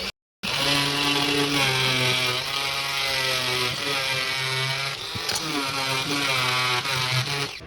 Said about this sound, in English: So what I've decided to try is this oscillating tool.